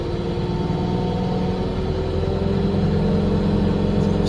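Crane hoist motor runs steadily while lifting a load, a continuous mid-to-low engine drone with a constant hum and no pauses, close and fairly loud throughout.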